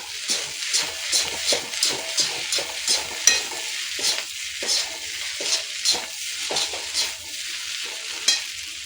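Rhythmic scraping and stirring in a hot pan, regular strokes about twice a second over a soft sizzle.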